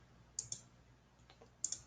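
Computer mouse clicking in two quick double clicks, sharp and faint, separated by about a second of quiet room tone.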